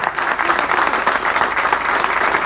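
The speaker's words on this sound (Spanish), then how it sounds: "Que sea un eterno aplauso" Dense, loud crowd applause during a tribute to Cacique Julio Di Palma in Monteros, a continuous wash of many hands clapping with no break.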